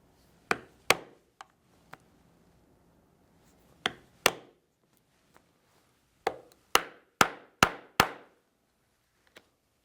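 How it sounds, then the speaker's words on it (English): A hole punch is struck into a leather guitar strap to make adjustment holes: about ten sharp, close knocks come in irregular clusters with quiet gaps between them, and no one speaks. "we will punch holes for adjustment"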